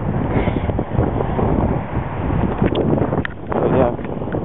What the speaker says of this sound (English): I know a lot of what you can hear right now is most likely just wind.